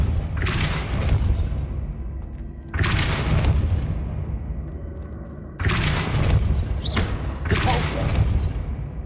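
The Depulso spell is cast three or four times in Hogwarts Legacy, each cast a heavy booming thump with a noisy whoosh that decays over a couple of seconds, under speech.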